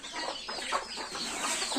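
Domestic chickens around a house cluck in short, repeated bursts, close and moderately loud.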